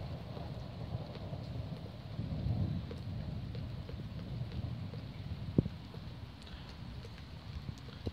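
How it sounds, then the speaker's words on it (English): Steady rain falls throughout, with a low rumble of distant thunder swelling briefly partway through and a sharp crack near the end. "I'm sitting here looking out at a rainstorm"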